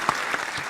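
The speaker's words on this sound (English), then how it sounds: "Everybody give a round of applause." Audience applause during an interview, scattered claps with a couple of sharper hits, brief and moderately loud.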